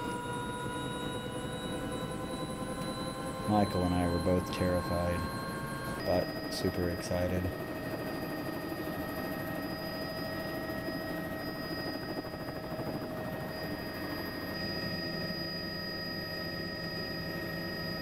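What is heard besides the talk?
helicopter flight to Eagle Glacier, Juneau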